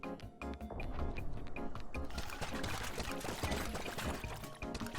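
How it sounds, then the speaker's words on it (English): A water gun in the game Voidigo squirts steadily, with evenly spaced little spurts and gushing liquid layered over busy game music and effects at moderate volume. "Oh, it's a water gun."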